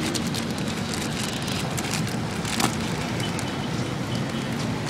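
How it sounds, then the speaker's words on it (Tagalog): Steady, dense rain pouring down without a break, a constant hissing wash with occasional sharper drips. "Lakas ng ulan eh."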